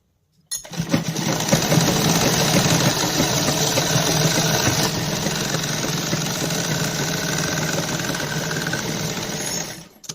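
A sewing machine stitches a sleeve seam in one long continuous run, a loud steady motor hum with a rapid needle chatter that carries on for about nine seconds, close by and without talk.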